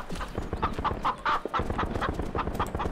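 Chicken clucking in a quick, steady series of short calls, fairly close, with a low rumble of game ambience underneath, in the video game Shotgun Farmers.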